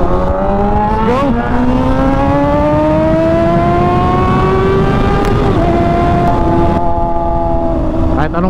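A motorcycle is ridden near Capitol Lingayen in Pangasinan. The engine drones loud and close, with its pitch climbing steadily through the gears and short dips at the shifts.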